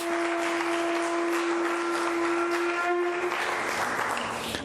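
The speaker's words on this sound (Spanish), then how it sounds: "Den el aplauso al Señor." A church congregation claps in a steady, moderately loud burst of applause while a sustained musical tone holds underneath, the clapping fading slightly near the end.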